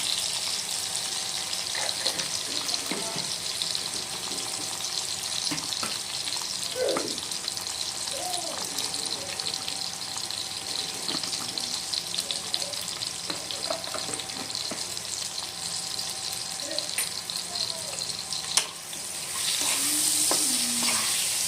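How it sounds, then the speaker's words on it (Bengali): Eggplant slices frying in oil in a pan, a loud continuous sizzle and crackle with occasional stirring and scraping, steady throughout. "মোটামুটি 2-3 মিনিটের মধ্যে কিন্তু বেগুন ভাজা হয়ে যাবে।"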